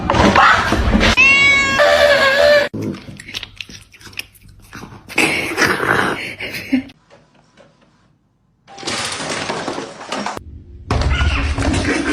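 A cat meows a few times up close amid loud chewing and crunching, with quiet gaps between bursts.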